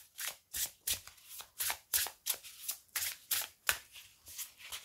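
A deck of cards being shuffled, a quick run of about a dozen crisp riffling bursts in a steady rhythm, close and alone.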